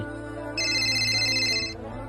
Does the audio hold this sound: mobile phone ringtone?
yes